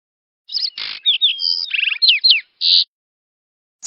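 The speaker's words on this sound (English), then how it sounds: "Sparrow." A sparrow chirps in a quick run of short, bright calls and trills, close and clear, with a brief gap before a final note.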